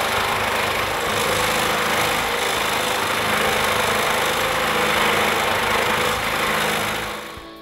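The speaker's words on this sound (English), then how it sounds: "first cuts the excess wood away from the gear" A power tool cuts excess wood away from a handmade wooden clock gear, a steady, loud, buzzing whine that holds even for several seconds before trailing off at the end, with no voices.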